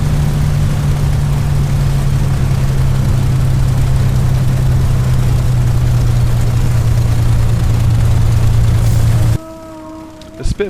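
Spitfire engine in the A2A flight simulator game drones steadily at a low, even pitch as power comes on for taxiing, then cuts off abruptly near the end, leaving faint other sounds.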